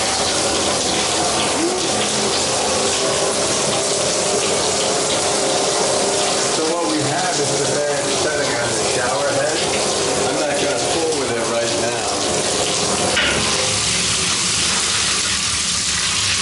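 A shower in a remodeled apartment bathroom runs at full pressure, a loud, steady hiss and rush of spraying water that holds unbroken throughout.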